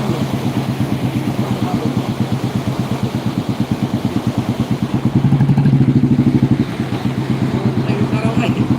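A vehicle engine, likely a motorcycle, runs nearby with a loud, steady rhythmic chug that swells briefly near the middle, beside a flooded river on a bad village road.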